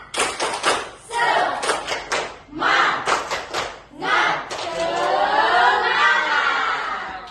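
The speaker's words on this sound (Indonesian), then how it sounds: "Kita mau melakukan tepuk semangat secara bersama-sama ya." A classroom of students performs a rhythmic spirit clap in patterned bursts, then breaks into a loud group chant and cheering, close and lively.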